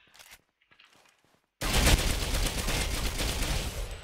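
Hip-fired gun in the Ghost Recon Phantoms video game, a quiet lead-in giving way to a loud, sustained burst of rapid automatic fire that runs continuously to the end.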